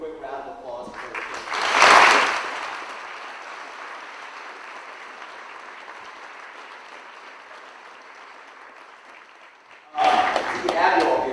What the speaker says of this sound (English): So we do a quick round of applause for her